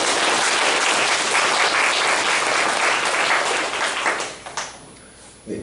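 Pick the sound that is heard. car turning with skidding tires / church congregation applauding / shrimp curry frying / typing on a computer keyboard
church congregation applauding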